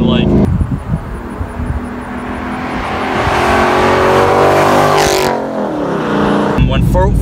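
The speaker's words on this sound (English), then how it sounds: "you do just hear the exhaust a little bit more" A 2014 Ford Mustang GT's engine and exhaust hum steadily with a low rumble, rising slightly in intensity, while a person talks over it.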